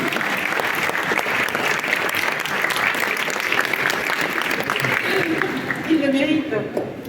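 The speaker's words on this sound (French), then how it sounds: "vous pouvez déjà applaudir Charles" An audience at a ceremony for the 20th anniversary of the UNESCO Convention breaks into sustained, dense applause heard close, with a voice briefly rising over the clapping near the end.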